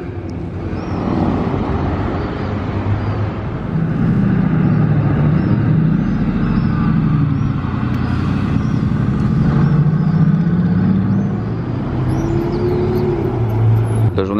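A Ferrari 488 Pista Spider passes on a street in Monaco, its engine a loud, steady rumble that rises and fades as it goes by.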